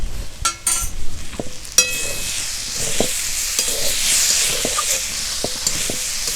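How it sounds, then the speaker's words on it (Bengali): Spices with turmeric powder sizzle steadily in hot oil in a pan while being stirred, with sharp scraping clicks of the utensil over a constant frying hiss. "হলুদের গুঁড়ো, ভালো করে একটু কষে নেব"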